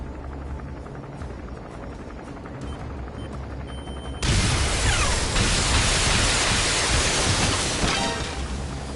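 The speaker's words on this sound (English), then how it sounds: "Don't try to take down a gunship from the front." Enemy helicopter gunship in Metal Gear Solid V, a loud broadband roar of rotor and engine noise with bursts of gunfire, swelling suddenly after a quieter stretch and holding close and heavy to the end.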